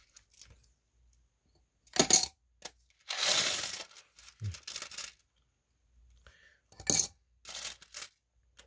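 Old Korean coins are handled and sorted by year, with scattered metallic clinks and jingles, a longer rattling shuffle of coins in the middle, then more sharp clicks as pieces are set down, all with no speech.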